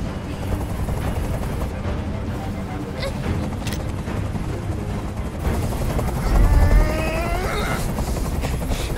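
A helicopter in the video game Detroit: Become Human drones steadily throughout, its rotor thrumming under scattered bangs and game effects, with no speech.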